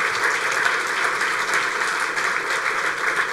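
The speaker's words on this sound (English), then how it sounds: "This is the applause to Ken." Sustained applause from a conference audience at an agricultural dialogue event, steady and dense clapping filling the room without a break.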